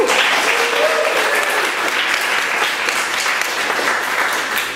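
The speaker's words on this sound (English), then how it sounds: "round of applause for the Mickey team." Steady, dense applause from a conference audience at a game developers' talk fills the whole stretch, even and sustained without pauses.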